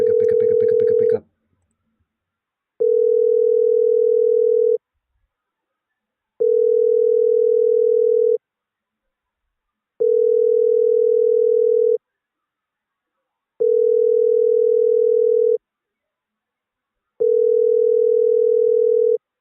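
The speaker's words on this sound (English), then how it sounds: "But this is like straight up just ring, ring, ring, ring, ring." A telephone ring-back tone purrs in five long, steady bursts separated by even silences, calling out with no one picking up; a brief burst of voice is heard at the very start.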